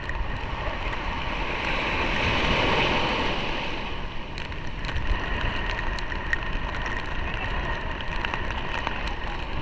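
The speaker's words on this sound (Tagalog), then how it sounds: "Malakas kasi yung alon mga kanter." Steady roar of rough surf and rushing water fills the whole stretch, loud and continuous, with wind buffeting the microphone.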